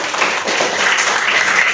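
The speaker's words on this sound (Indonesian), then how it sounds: "tepuk tangan luar biasa" Children in a classroom give a short, lively round of clapping during a lesson on the Rosary, close and fairly loud, a brief burst with no talk over it.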